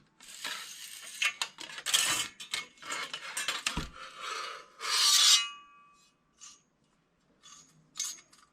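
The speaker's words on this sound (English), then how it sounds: "And then take off the comb." The cast-on comb comes off a Passap E6000 knitting machine with close metallic scraping and rasping in uneven bursts. A few small clicks and taps follow as it comes free. No voices.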